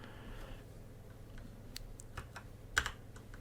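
Quiet clicking of computer keyboard keys, a few scattered light taps over a few seconds with one slightly sharper press, against a soft steady hum.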